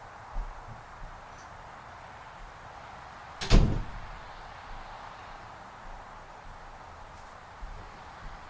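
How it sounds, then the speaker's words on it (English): An indoor door is closed at night, one single solid thud standing out against a steady quiet background hiss, with nothing else audible around it. "So now I'm going to close the door because I don't want any more interruptions here tonight"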